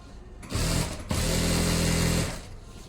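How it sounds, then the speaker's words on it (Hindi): A sewing machine with a pearl foot stitches elastic onto a pant waistband in two close, loud whirring bursts: a short run, a brief stop, then a longer steady run that winds down. "अब यहाँ पे एक बार पहले सिलाई लगाएंगे और उसके बाद में हम इसे पैंट के साथ जॉइंट करेंगे"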